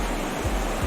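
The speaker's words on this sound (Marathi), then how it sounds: "खूप पाणी आहे आणि दगड खूप आहे, त्याच्यामुळे पाण्याचा आवाज खूप जास्त येतोय" Loud, steady rush of water pouring over rocks at Devkund Waterfall near Pune, a dense broadband roar filling the short clip with no voices.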